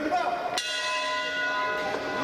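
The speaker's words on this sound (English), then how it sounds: "bell is rung and action is underway." Wrestling ring bell struck once to open a pro match between Joseph Von Schmidtt and Lenn Oddity, a sharp metallic clang whose ringing tone sustains and decays over crowd and arena noise, with a second softer strike near the end.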